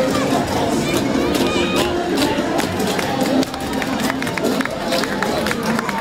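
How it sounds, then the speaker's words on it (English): Parade crowd at a December holiday parade in Berwick and Somersworth, cheering and clapping in a steady loud roar of mixed voices and applause, with chatter throughout and a brief dip near the middle. "And that brought a good crowd. Lots of waving and clapping."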